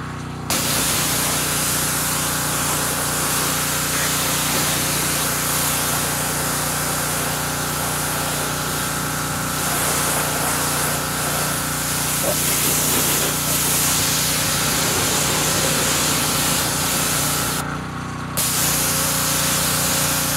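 A steady hiss of aerosol stripper spraying onto plastic runs continuously, close and loud, with a brief pause near the end before resuming.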